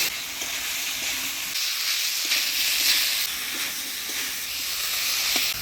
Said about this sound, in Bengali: এবার দিয়ে দিচ্ছি সিদ্ধ করে রাখা কাঁঠাল